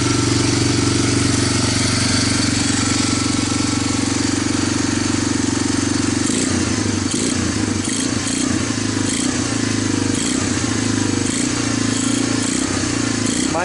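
A barn-find Honda TRX250 ATV engine runs with its exhaust popping, first a steady loud idle, then a rough, choppy rhythm of repeated revs and pulses close by.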